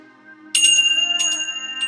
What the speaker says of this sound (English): we begin by ringing our bells, our little Tibetan bells for peace